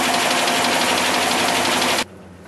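A rebuilt engine runs loud and close with a steady, rough roar for about two seconds, then cuts off abruptly, leaving a quieter background.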